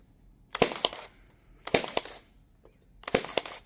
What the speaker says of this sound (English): I'll put about 2 or 3 pin nails in each one here.